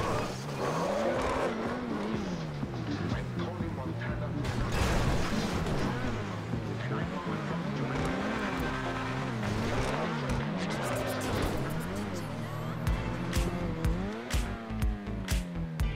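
An Itali GTO Stinger TT sports car in a parkour video game, its engine pitch sweeping up and down repeatedly with shifts and revving bursts, accompanied by scattered tire squeals and impact noises at a steady moderate level.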